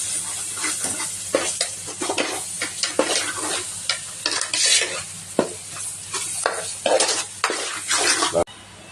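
A spoon scrapes and stirs onions with ginger-garlic paste in a frying pan for Andhra-style fish curry, the steady sizzle punctuated by repeated scraping strokes, close and fairly loud with no talking.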